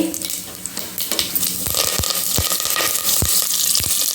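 Dried red chili and curry leaves fry in a pan of hot oil, giving a constant close sizzle punctuated by sharp clinks of stirring, with no talking.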